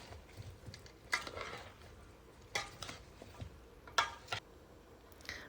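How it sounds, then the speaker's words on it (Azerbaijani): Chopped tomatoes with a tablespoon of salt being stirred in a bowl, soft wet mixing broken by several sharp clinks and scrapes of a spoon against the dish. "Üzərinə 1 yemək qaşığı duz əlavə edib bunu yaxşı-yaxşı qarışdırıram"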